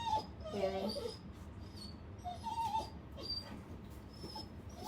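A dog whines and whimpers in the background indoors, faint and intermittent high-pitched moans over a low room hum.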